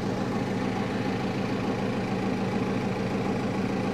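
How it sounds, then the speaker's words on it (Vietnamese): A Mitsubishi S6R marine diesel of about 1000 horsepower, fitted on a Vietnamese fishing vessel, runs steadily at the exhaust pipe, giving a dense, continuous rumbling roar that stays loud and even throughout, with no speech. "Đấy, động cơ Mitsubishi S6R."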